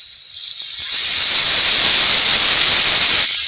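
Green chillies hit by oil in a pan give off a loud, steady hiss that swells after a brief quiet start and holds close and continuous before cutting off near the end.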